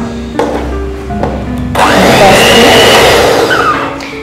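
Electric mixer whirring loudly as it beats four eggs for chocolate cupcakes, starting after a few faint knocks and then running as a continuous buzzing roar close by.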